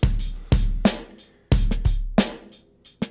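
An instrument signal runs through a Chase Bliss Clean compressor pedal set to heavy limiting on the peaks, giving a series of sharp plucked attacks with quick, even decays in a steady rhythm.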